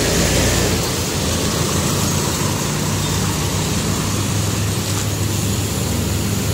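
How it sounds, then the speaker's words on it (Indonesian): Royal Crown coach bus at a bus terminal, its heavy diesel engine rumbling steadily close by amid surrounding traffic and station noise. "Oh iya, ini baru masuk lagi, teman-teman, bus Royal Crown"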